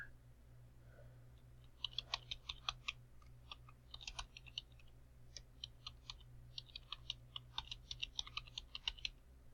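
Account information is typed on a computer keyboard as a string of light, crisp keystrokes in uneven bursts over a low steady hum, quiet and close, with no speech.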